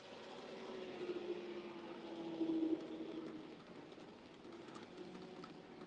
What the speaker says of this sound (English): Do you like my new locomotive?